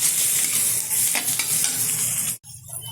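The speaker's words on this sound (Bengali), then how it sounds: "দিয়ে দেবো টুকরো করে রাখা ছোটো সাইজের একটা টমেটো। ভালোভাবে আবারও একটু নেড়ে নেব।" Mutton curry with spices and chopped tomato is stirred in a hot pan, a close crackling sizzle with scraping stir strokes that cuts out abruptly near the end before a softer frying hiss resumes.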